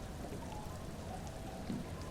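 Steady rainfall in Disco Elysium, a soft continuous hiss of drops with no distinct patter or thunder, faint and unbroken throughout.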